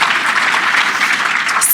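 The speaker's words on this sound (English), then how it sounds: "Yes, let's clap for that." A crowd claps warmly at a charity awards event, a brief, full and steady burst of many hands applauding together.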